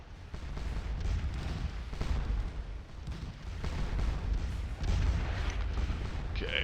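Massed cannon fire rumbles through a Scourge of War battle, deep booming reports rolling and overlapping continuously at a moderate distance, with faint voices in the background.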